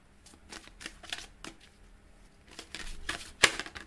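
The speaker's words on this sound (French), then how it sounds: "Les cartes n'arrêtent pas de tomber." Tarot cards slipping and dropping during a deck shuffle: irregular soft riffling flicks and papery slaps, close and fairly quiet, ending in one sharper snap.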